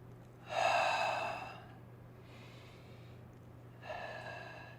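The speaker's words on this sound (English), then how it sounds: "Inhale, and then exhale and come up. Go down, exhale, come up." Two loud, close breaths taken during squats in a yoga session, each a long airy exhale, separated by a quieter breath, over a steady low hum.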